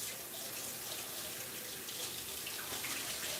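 Kitchen tap running steadily as hands are rinsed at a home sink, a soft, even hiss of flowing water with no talking.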